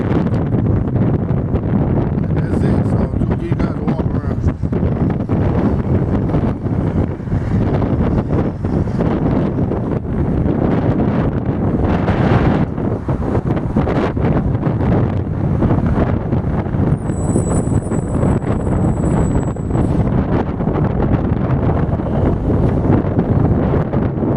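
Strong outdoor wind buffets the microphone in loud, continuous, rumbling gusts for the whole stretch, drowning out any other sound.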